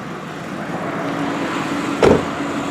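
A 2007 Subaru Forester X AWD engine hums steadily at close range, with a brief louder thump or clunk near the end.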